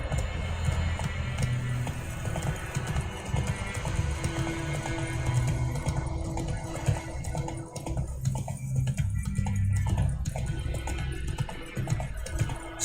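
Horse hooves clip-clopping steadily in The Witcher 3 video game, a continuous rhythmic gallop over game music and ambience, fairly loud throughout with a brief whinny-like sound.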